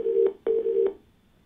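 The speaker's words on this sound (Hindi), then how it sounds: "तो दोस्तों इसी के साथ आइए बात करते हैं अपने अगले कॉलर से, वाहिद पटेल जी से" A telephone call connecting on a TV phone-in show, heard as two long electronic ringback-style tones in a row, clear and alone, then quiet.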